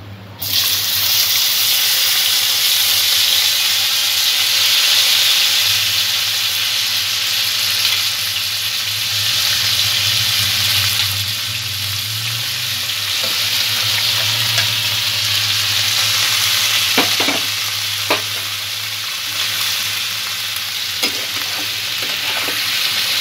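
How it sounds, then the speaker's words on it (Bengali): Boiled jackfruit being stir-fried and mixed in oil for a vegetarian doi echor dish, a loud, continuous close sizzle with a steady low hum underneath and a few stirring knocks near the end. "ভালো করে তেলের সঙ্গে মিক্স করে দেব।"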